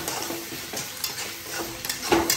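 Prawn fry with curry leaves being stirred in a pan, a close continuous sizzle with repeated soft scraping strokes and a light clink of utensil on metal.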